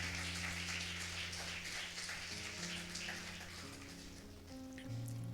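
A church congregation claps in sustained, dense applause, with organ or keyboard chords held underneath that shift pitch several times.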